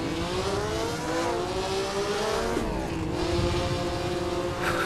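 A 1957 historic Formula 1 car in a racing video game, set at the Buenos Aires Argentine Grand Prix, its engine roaring loud and steady with rising and falling revs through gear changes, alone without talk.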